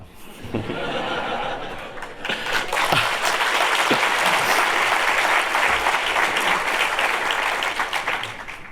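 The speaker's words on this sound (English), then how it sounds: "It's a well-deserved applause, I can tell you." Graduation ceremony audience for an MBA class bursting into applause, starting as lighter clapping and swelling into a loud, sustained wall of hands with a few whoops before easing slightly at the end.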